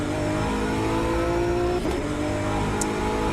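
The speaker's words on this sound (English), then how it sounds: "It's another one of those big wanged Nissan GTRs." Nissan GT-R GT3 race car engine in the Automobilista 2 racing game, a loud, steady, continuous drone held at high revs throughout with no talk.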